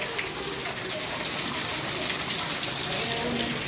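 Heavy rainwater gushes and pours steadily in Ahmedabad with a dense, constant rushing hiss, heavy and close, with no pauses.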